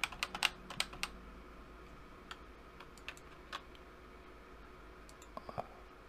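Typing on a computer keyboard during Unreal Engine 4 blueprint setup, with a quick cluster of crisp key taps, then scattered single clicks after pauses, close and fairly quiet against a low hum.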